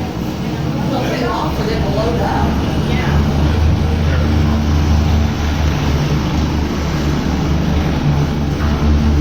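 Loud, steady rotor and engine roar of a medical helicopter taking off close by at a bowling center, a continuous churning drone with people talking underneath.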